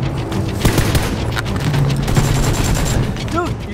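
M16 rifle fire in a PUBG-style battle scene: dense bursts of loud, close gunshots crack repeatedly throughout, with scattered booms.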